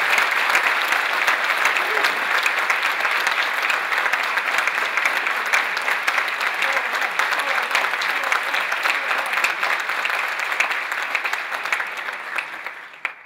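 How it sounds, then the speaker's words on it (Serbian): A large audience applauds a group of young readers at a recitation finale, dense sustained clapping for about thirteen seconds that fades out at the end, with no voices over it. "pa ih zato pozdravimo jednim velikim aplauzom"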